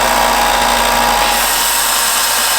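A grinder sharpening a vintage Swedish axe head gives a loud, steady, close whine with a continuous hissing grind, unbroken and without talk.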